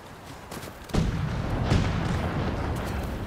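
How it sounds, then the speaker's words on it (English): Heavy cannon fire in Ghost of Tsushima's Iki Island expansion, a deep booming blast that swells and rolls on for several seconds with a second surge, loud and close with no talking over it. "I want to use that cannon."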